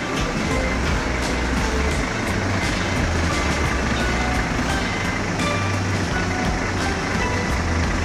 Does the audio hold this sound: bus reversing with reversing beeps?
yes